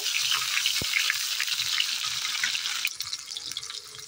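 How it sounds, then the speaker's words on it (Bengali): Steady hiss of tomato frying in hot oil, with faint clinks and a brief knock partway through; no talking. "টমেটোটা তেলের মধ্যে দিয়ে খুব ভালোভাবে ভেজে নেব।"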